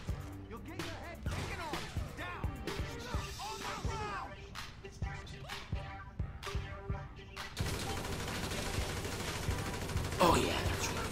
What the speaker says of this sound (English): Are those the cops shooting me?